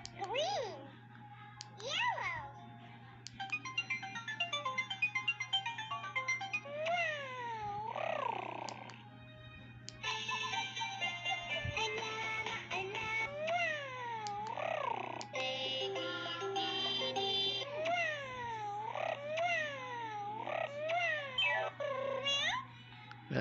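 A toy robot cat, a Unigato from BR Machine, gives repeated electronic meows and chirpy sweeping tones, close and fairly loud, with a steady low hum underneath.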